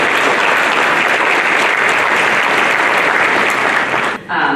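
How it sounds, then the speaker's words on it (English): Loud, sustained applause from a luncheon audience at the Port Arthur Chamber of Commerce greets Congressman Randy Weber, a thick continuous wall of clapping that dips abruptly near the end. "how about a round of applause for Congressman Randy Weber?"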